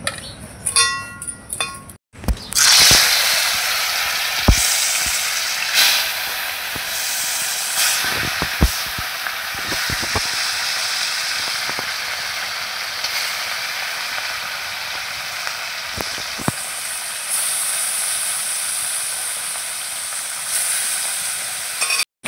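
A pot of rice boils over on the stove with a loud, steady hiss of steam and sizzling spill, broken by occasional small clicks and knocks after a short burst of other noise at the start.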